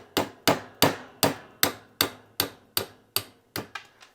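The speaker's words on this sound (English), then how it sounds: "This is where the hammer comes in." A nylon-tip hammer taps a slave pin out of an AR lower receiver: about ten sharp, evenly spaced knocks, close and clear, with quicker, lighter taps at the end.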